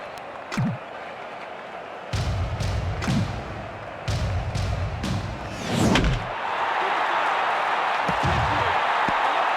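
A baseball bat connects in the MLB Slugfest 2004 video game, Cubs versus Cardinals: a few sharp thuds and knocks ring out, then a stadium crowd swells into a sustained roar toward the end.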